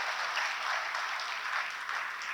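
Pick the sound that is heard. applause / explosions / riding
applause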